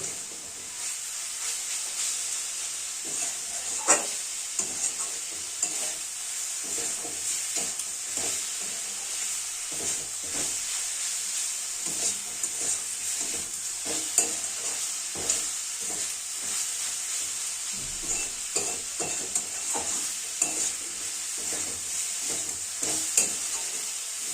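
Khesari greens being stirred slowly in a pan, a steady close sizzle with repeated soft scraping and turning sounds throughout.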